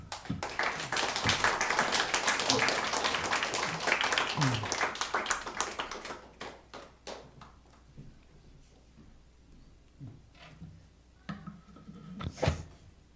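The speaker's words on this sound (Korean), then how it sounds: "이제 우리 김한철 선교사님 모실 때에 뜨거운 박수로 환영하도록 하겠습니다." A church congregation at a Sunday service gives warm applause to welcome a missionary, a dense burst of clapping that thins into scattered claps and a few knocks after several seconds.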